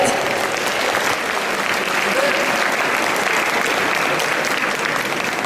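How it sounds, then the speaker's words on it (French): A crowd at a cosplay parade during the Japanantes 2012 convention applauding a contestant: loud, continuous, dense clapping filling the whole stretch, with faint crowd murmur beneath. "On applaudit bien fort Artbook numéro 37."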